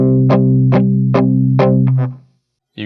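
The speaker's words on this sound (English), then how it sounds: "But if I palm mute it with my palm" Distorted electric guitar power chord struck four times with ringing harmonic sustain, then two quick chugs before falling silent, followed by a short muted burst; loud, close, no speech.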